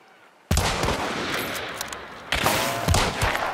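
Dense gunfire from Hunt: Showdown erupts suddenly, with rapid overlapping shots crackling on without pause and a louder burst of closer blasts near the end.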